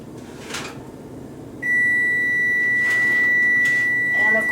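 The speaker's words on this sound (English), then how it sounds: "the timer is telling me that I'm still on, so let me go ahead and turn that off" An oven timer beeps in a home kitchen while bread bakes, a steady high-pitched electronic tone that starts abruptly and holds loud and close for several seconds.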